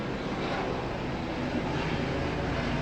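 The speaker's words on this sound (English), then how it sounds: "waiting for the helicopter to go by. I don't know if you can hear me, it's pretty loud." A helicopter passing overhead gives a steady, loud broadband roar that fills the whole stretch without letup, with no talk over it.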